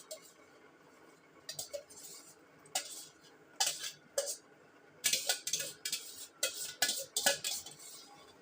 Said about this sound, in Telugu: నూకని నీళ్ళల్లో వేసి కలిపి పెట్టుకున్నాను, ఉంటలు చుట్టకుండా ఉంటుందని.